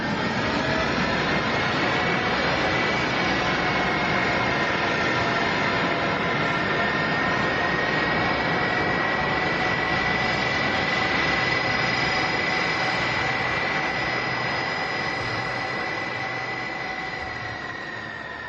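Delta Airlines A330 jet engines hold steady thrust through a tight taxi turn, a loud continuous roar with a sustained whine that eases slightly near the end.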